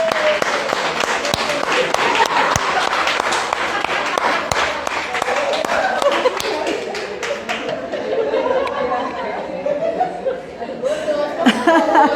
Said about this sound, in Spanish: en el momento que estábamos aplaudiendo